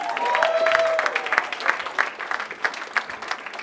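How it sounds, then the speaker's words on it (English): A church youth crowd applauds, dense clapping that starts strong and gradually thins out over a few seconds, with scattered claps standing out near the end. "Y'all give them a round of applause."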